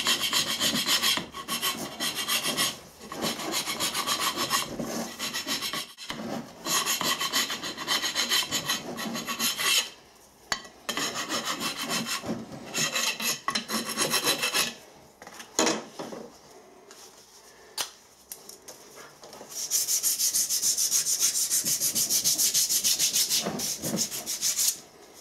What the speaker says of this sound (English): Scrape the remains of the gasket off.